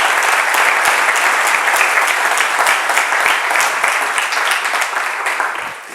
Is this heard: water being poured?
no